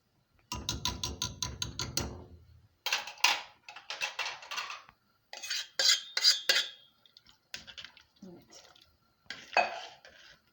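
Kelle paça mixture stirred in a pot with a utensil, giving repeated close metallic scrapes and clinks against the pot in short irregular bursts, with no talk.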